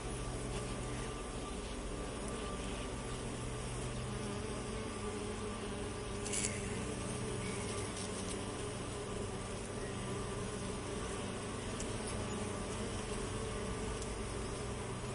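A steady, dense buzz of bees hums continuously at low level, with no pauses or voices, like a hive heard up close.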